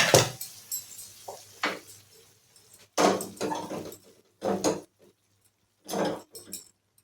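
A kadai set down on a home stove before frying punugulu made from idli batter, giving several separate metallic clanks and scrapes of cookware, close and fairly loud with quiet gaps between.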